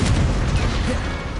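An Incendio fire spell cast in the Hogwarts Legacy video game, a heavy low whooshing burst with a rumbling boom that rolls on for over a second, loud and close.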